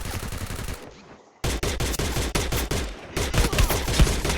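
MP5 gunfire in Free Fire rattles out in loud rapid bursts of close shots, broken by a short silent gap and then resuming in dense volleys.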